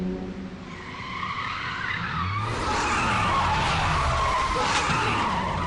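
A car skids hard for a film stunt, its brakes disabled so it will slide, with tire squeal and engine roar building to a loud, sustained screech after a quieter lead-in.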